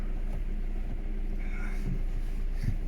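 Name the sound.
2004 Ford Mondeo TDCi diesel engine rattling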